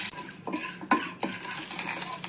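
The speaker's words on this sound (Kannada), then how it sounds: "ಈಗ ಕಾದ ಎಣ್ಣೆಗೆ ಸಾಸಿವೆ, ಒಂದು ಅರ್ಧ ಸ್ಪೂನ್ನಷ್ಟು ಕಡಲೆಬೇಳೆ, ಉದ್ದಿನಬೇಳೆ ಹಾಕ್ಕೊಳ್ಳೋಣ" Mustard seeds, chana dal and urad dal drop into hot oil for tempering and set off a bright, close hiss, broken by a few clinks and scrapes of a spoon against the pan.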